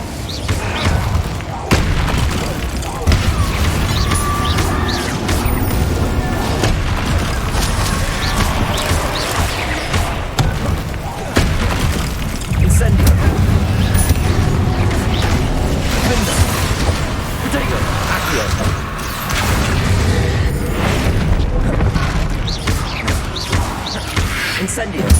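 Fire spells cast repeatedly in Hogwarts Legacy on PS5, loud bursts and booming impacts layered over dense game music and combat noise throughout, with speech present.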